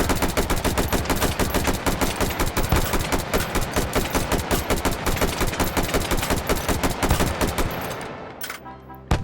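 A pistol fires in the VR game H3VR as a long rapid string of loud, close, evenly spaced shots, almost like automatic fire. It stops abruptly near the end, leaving a few faint clicks and one last sharp report.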